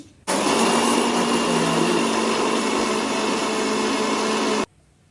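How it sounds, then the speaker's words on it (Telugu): A mixer grinder whirs loudly with dry chillies, cumin, mustard seeds, coriander seeds and fenugreek inside. The steady, dense roar starts abruptly, runs for about four seconds and then cuts off. "వేయించి పెట్టుకున్న ఎండుమిరపకాయలు జీలకర్ర ఆవాలు ధనియాలు మెంతుల్ని మిక్సీ పట్టుకోవాలి"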